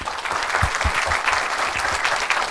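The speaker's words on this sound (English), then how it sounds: "round of applause for team 1" An audience at a business school induction program claps steadily for a team, a dense close round of applause with some crowd murmur mixed in.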